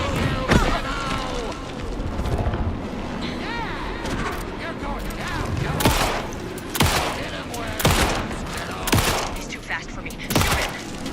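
Repeated bursts of gunfire and heavy booming blasts in a battle in the video game Alan Wake 2, some shots sharp and close, with chaotic effects filling the background.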